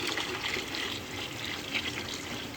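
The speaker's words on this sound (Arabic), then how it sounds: "بضيف له المية" Water pours steadily into a pot of browned fried onions being prepared for white basmati rice, a continuous close splashing rush of liquid with no voices over it.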